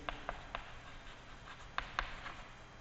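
A marker or chalk writes on a board in a few short, scattered taps and strokes, faint and close in a quiet room.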